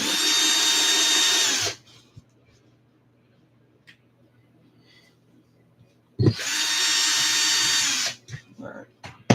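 A power drill drives screws into an ARRMA 6S RC car differential in two loud whirring bursts separated by a quiet pause with small clicks and handling noises.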